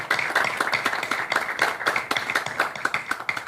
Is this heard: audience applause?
yes